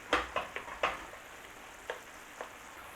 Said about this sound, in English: Just cook it off in the pan.